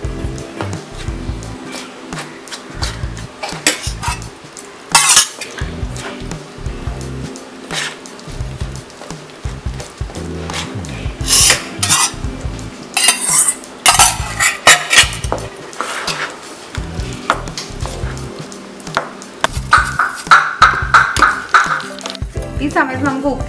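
Chicken marinade being stirred with milk and lemon juice in a metal bowl, spoon clinking and scraping against the sides in uneven bursts while a person talks throughout.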